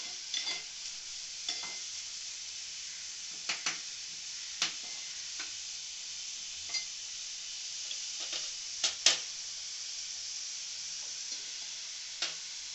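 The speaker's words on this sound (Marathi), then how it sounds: "मीडियम फ्लेमवर कांदा परतून घ्यायचा." Onion sautéing in a pan over a medium flame, a faint steady sizzle under scattered sharp clicks and scrapes from stirring, quiet and close throughout.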